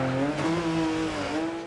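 A rally car in Dirt Rally 2 revs hard, its engine droning with shifting pitch as the tyres scrabble and squeal briefly over the surface.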